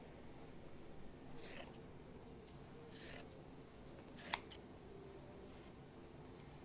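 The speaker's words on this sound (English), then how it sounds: "you're just laying your scissors right on the corner of that box and cutting" Scissors cut along a carpet edge held against the corner of a box, giving several quiet, separate snipping and rasping strokes against a low, steady background hiss.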